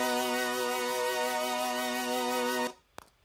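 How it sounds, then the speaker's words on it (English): A sustained synth pad from Logic's stock Retro Synth plays alone as a single held, richly layered tone. It cuts off near the end, leaving a brief faint click before silence. "We've got this extra pad that comes in just for this section."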